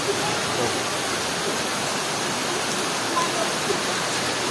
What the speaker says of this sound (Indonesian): Masih hujan deras banget nih.